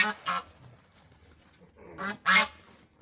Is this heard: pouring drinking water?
no